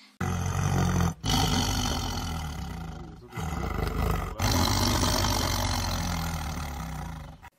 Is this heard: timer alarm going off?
no